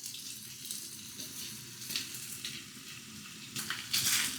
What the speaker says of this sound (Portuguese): Colocar toda a carne e vamos dar uma dourada.